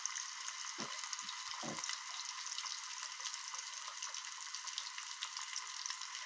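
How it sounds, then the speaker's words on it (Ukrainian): Steady, dense sizzling and crackling of fish frying in boiling oil, continuous throughout, with a few soft low clunks partway through. "Частину посмажимо в кип'ячій олії, а частину на сковорідці."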